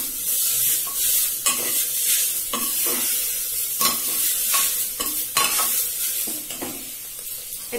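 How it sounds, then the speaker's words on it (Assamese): Spices stirred through hot oil in a home-kitchen pan, a steady bright sizzle broken by repeated scraping strokes of a spoon, close and fairly loud, no voices. "তাৰপিছতে মই পচলাখিনি ভালকে লৰাই দিম।"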